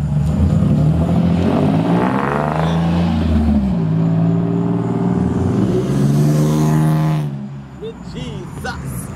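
A Nissan 350Z sports car revving and passing close by, a loud rising and falling engine drone with clear harmonic sweeps that fades near the end, with people talking over it.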